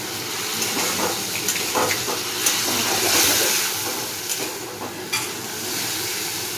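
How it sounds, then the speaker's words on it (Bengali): Prawns fry in a hot pan with salt and turmeric, a continuous close sizzle broken by scraping stirs and small spatters, with no voices. "চিংড়িগুলো ভাজা হয়ে গেছে, এবার নুন আর হলুদ দিয়ে ভাজা"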